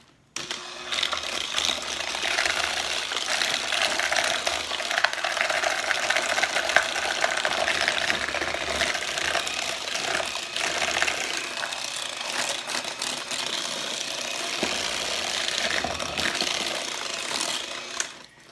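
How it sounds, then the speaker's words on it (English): Egg yolks and sugar for a Buche de Noel being beaten with an electric mixer, a steady whirring drone that runs continuously and evenly for the whole stretch, close and fairly loud with no talking. "we're going to start off with the egg yolks and the sugar. We're going to mix those real quick"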